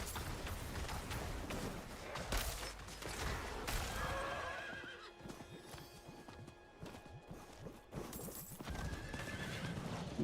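Horse in a video game neighs with a shrill whinny while hooves clip-clop in a quick run, fairly faint, with sharp thuds and scattered effects around it.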